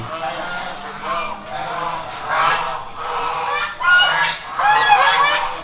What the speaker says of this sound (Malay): Itu dah membisingkan angsa aja.